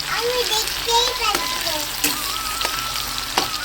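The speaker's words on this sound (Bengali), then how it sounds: "সে পেঁয়াজ কুচিটা দিয়ে দেবো আর পেঁয়াজ কুচিটাকেও লাল করে ভেজে নেবো আমি" Chopped onions frying in oil with cumin in a village kitchen, a continuous close sizzle with occasional stirring clatter and brief voices in the background.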